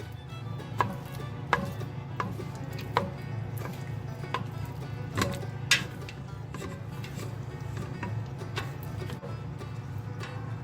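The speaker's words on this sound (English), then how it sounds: "I'm just going to continuously keep stirring, get that lard." Lard and peanut butter melting in a pot over medium heat for homemade bird suet, stirred continuously with a spoon that taps and scrapes the pot in an irregular ticking rhythm over a low steady bubbling hum.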